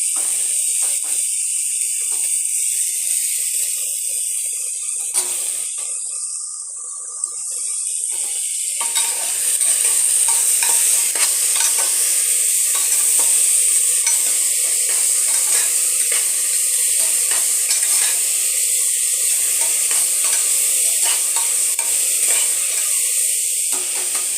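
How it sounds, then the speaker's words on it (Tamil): Steady, loud sizzling of vegetables sautéing lightly in a pan for millet kichadi, a continuous hiss with faint stirring scrapes throughout. "காய்கறி இது ரொம்ப வதங்கணுங்கிறது இல்லை லைட்டாக வதங்கினாலே போதும்"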